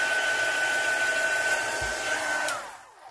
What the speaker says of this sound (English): I'm going to use my heat gun and I'm just going to dry off the ink.